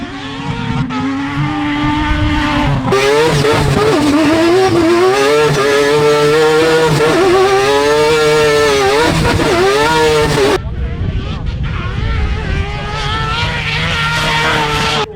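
Race vehicles, a Pro 4 among them, run laps on a race track, engines loud and close, pitch climbing and falling through repeated revving passes with a sharp gear change partway through.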